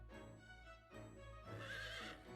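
A horse in a Fire Emblem fantasy game gives a clear, drawn-out whinny, loud and close, in a couple of rising and falling bursts with faint hoof clopping.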